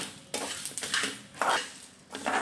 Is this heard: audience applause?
no